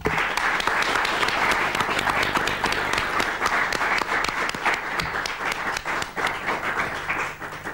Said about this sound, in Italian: Vorrei riaprire l'appunto con un altro applauso, ancora più robusto, ancora più giustificato, alla magnifica nostra squadra nazionale